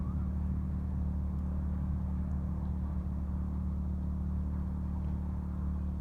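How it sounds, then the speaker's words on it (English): A car passes at a distance outdoors near a generator in a hush box, heard as a steady low rumble blending with the generator's constant drone for several seconds. "Of course, a car has to go by at this time."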